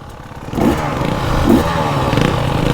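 KTM EXC 300 dirt bike engine on a near-vertical drop, a loud close two-stroke drone with brief revs and clattering over about three seconds.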